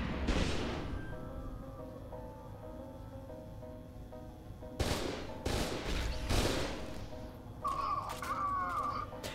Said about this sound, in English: the skeleton gun fires an orb that shoots electricity and explodes